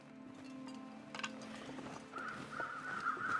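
Crows caw in The Long Dark survival game, a few distant calls over a quiet wind-like ambience, growing a little louder toward the end.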